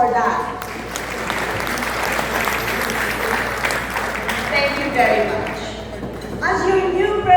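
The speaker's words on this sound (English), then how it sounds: "Let's give each other a big round of applause for that." An audience at a medical society meeting applauds in a dense, sustained wash of clapping that runs throughout, with faint voices underneath.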